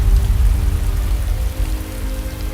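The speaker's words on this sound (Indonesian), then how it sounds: "Tiba-tiba kok hujan." Sudden rain pours down steadily, with a dense, close hiss of drops on surfaces. A low rumble runs under it and no voices are heard.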